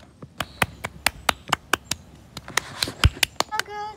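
One person claps a steady round of applause after a horseback riding lesson, with about fifteen crisp, evenly spaced claps close by and a brief trailing sound at the end.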